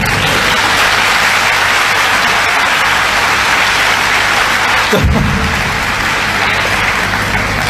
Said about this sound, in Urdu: تو لوگ تالیاں بجا رہے ہیں